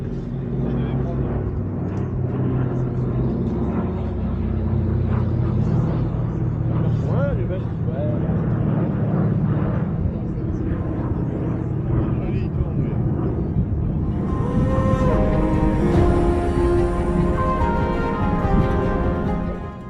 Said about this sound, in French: ce même bruit d'avion ne signifiait pas la même chose